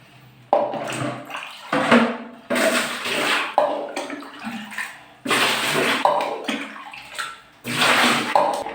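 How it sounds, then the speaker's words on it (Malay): Water being scooped out of a toilet bowl during cleaning, heard as a run of loud splashing and sloshing bursts separated by short pauses. "what you do is you kena scoop air tu keluar"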